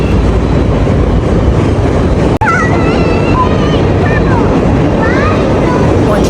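Loud, steady rumble of a Chicago subway train in motion, with squealing wheel tones rising and falling over the constant roar, and voices faintly underneath.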